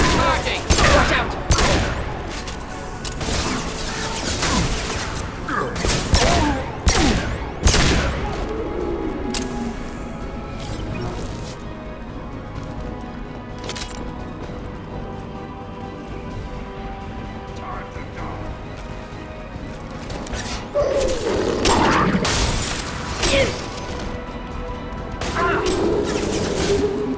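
Combat gunfire in the video game Mass Effect 2, with bursts of loud shots and impacts clustered at the start and again near the end. A quieter stretch in the middle carries scattered blasts and occasional voices.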